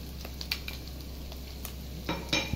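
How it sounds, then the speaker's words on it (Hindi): Potato pieces fry in a pan for a kachori bhaji, with a soft steady sizzle under several light scraping stirs of a spoon against the metal, close and fairly quiet. "फ्राई कर लेते हैं थोड़ा सा आलू को"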